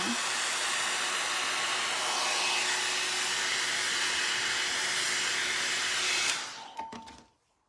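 A hot-air brush dryer with a titanium plate and boar bristles blows with a loud, steady whooshing roar for about six seconds, then shuts off and fades out with a few light clicks.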